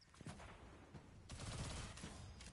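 A submachine gun in Destiny 2 firing slightly faster than normal, with dense rapid bursts and a loud sustained stretch in the middle.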